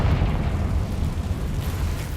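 A Confringo blasting spell exploding in the video game Hogwarts Legacy, a heavy, rumbling boom that holds as a low, roaring blast for a couple of seconds, with no speech.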